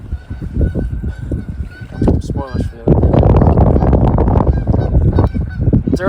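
Loud, dense honking from a flock of geese nearby, swelling into a continuous chorus after a moment of someone speaking.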